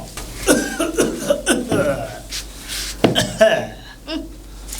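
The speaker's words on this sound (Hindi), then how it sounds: "थोड़ा उधर खांसा करो।" Several short, sharp coughs scattered among voices and bursts of laughter, fairly close and loud, spread unevenly through a few seconds.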